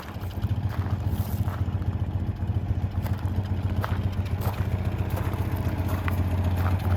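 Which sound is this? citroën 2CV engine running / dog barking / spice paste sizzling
citroën 2CV engine running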